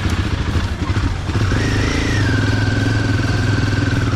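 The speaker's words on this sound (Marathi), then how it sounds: "हिमालयन 450 चालवतो." Royal Enfield Himalayan 450 motorcycle engine running steadily up close, a low throbbing idle-to-cruise note with a brief rising rev partway through, loud and continuous with no talking.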